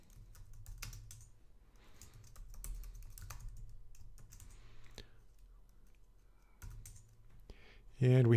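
Keys clack on a computer keyboard as Linux commands are typed in quick, irregular bursts with short pauses, fairly close and quiet, alongside low background hum.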